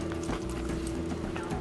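Horse hooves clip-clop fast and close during barrel racing in a rodeo arena, a continuous loud rhythm of hoofbeats over a steady humming background.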